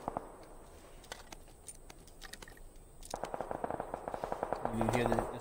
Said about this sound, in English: Ooh, someone is shooting at me.